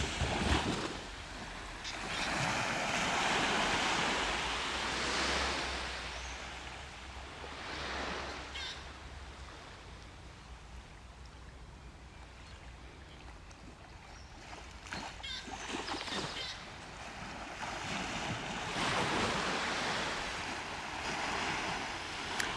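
Gentle water waves lapping at the water's edge in a forest setting, with soft washes that swell and fade at a low, fairly distant level. A voice speaks softly at times.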